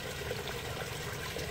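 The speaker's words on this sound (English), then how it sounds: "As you look into the waterfall." Waterfall heard as a steady, broadband rush of falling water, continuous and fairly loud with no breaks and no voices.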